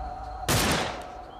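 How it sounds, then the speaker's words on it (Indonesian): A single loud pistol gunshot in a dramatic television scene, a sharp sudden blast that rings out and decays over about a second against a quiet background. "Tiba-tiba terdengar bunyi letusan pistol."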